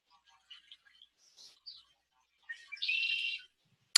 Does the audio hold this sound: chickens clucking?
no